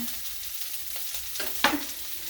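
Breaded shrimp sizzle and crackle steadily in hot oil for a po boy, with a few sharper scraping stirs partway through; close and fairly quiet, no talking.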